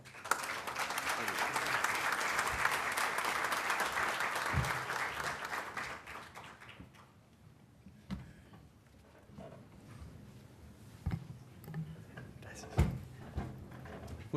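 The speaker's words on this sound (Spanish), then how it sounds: "Le brindamos un fuerte aplauso." A crowd applauding loudly and steadily for several seconds, then fading into scattered claps, shuffling and a few knocks and thuds.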